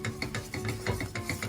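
Churro dough of flour and hot water being stirred hard in a pot, giving a quick, rhythmic series of soft scraping, rubbing strokes, close and fairly quiet, with no talking.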